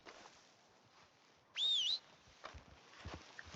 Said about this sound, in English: Whistle warning.